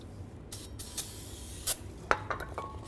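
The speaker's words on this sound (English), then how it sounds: "you just want to clean it off with some brake parts cleaner" Brake parts cleaner sprayed onto a new front brake rotor for a 2004-10 BMW X3: several short, sharp hissing spray bursts, close and fairly quiet, with no talking.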